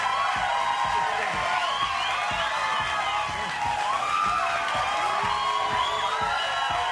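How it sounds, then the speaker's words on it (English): Studio audience on a live late-night talk show cheering and whooping in a steady, loud crowd roar throughout, with scattered voices mixed in. "I think they're cheering for this."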